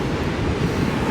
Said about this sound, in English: Ocean City Beach, Maryland.